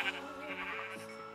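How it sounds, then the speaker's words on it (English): Sheep bleating in a Minecraft-style video game, a faint, wavering single bleat held for just over a second. "A sheep just spawned right in front of me."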